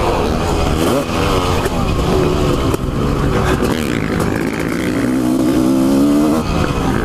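A Honda CR500 two-stroke motorcycle engine on a first ride, loud and close, with a raspy, shifting drone that rises in pitch through throttle changes under constant wind and mechanical clatter.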